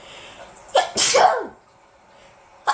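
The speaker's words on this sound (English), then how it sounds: "I hate sneezing" A person sneezes once with a loud, explosive burst after a short sharp intake of breath, then the start of a second sneeze cuts in at the end. The sound is close and clear against quiet background.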